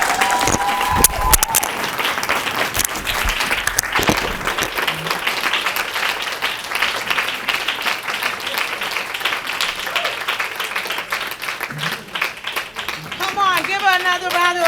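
Audience applause at a Women's History Month celebration, sustained clapping from a crowd filling the room, with voices and whoops mixed in and talking near the end.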